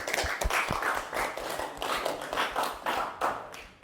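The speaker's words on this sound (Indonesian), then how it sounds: "mari sama-sama kita berikan tepukan yang semangat untuk kita semuanya" Audience clapping during a classroom teaching-performance session, a dense run of hand claps that rises and falls in waves, fairly close and lively, with no talk over it.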